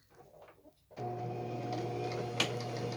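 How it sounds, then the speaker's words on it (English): A sewing machine stitches quilt fabric a quarter inch from the edge for a cathedral quilt, starting up abruptly and running as a steady, close mechanical hum with a soft, even rhythm. "And I always try to do a back stitch or two."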